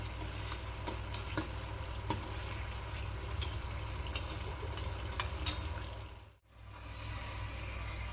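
Chaat katori baskets roasting in hot oil, turned continuously, with a steady close sizzle and light scraping clicks throughout and a brief break near the end.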